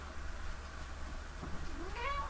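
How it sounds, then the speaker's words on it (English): A cat indoors gives a single short, rising meow near the end, heard faintly over a low steady room hum with no talking. "Bloody cat sitting in the middle of the friggin' room, as usual."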